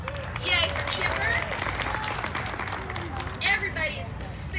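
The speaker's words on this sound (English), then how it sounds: "we'll cheer really loud for them all at once" Children at a 9-1-1 for Kids awards ceremony cheer and clap together in a steady crowd roar, with high excited shouts rising briefly near the start and again toward the end.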